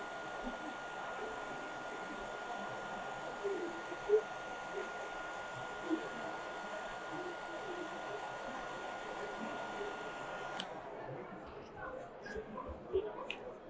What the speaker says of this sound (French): c'est quand même vachement pratique d'avoir un sèche-cheveux à côté. Ça permet d'accélérer le processus.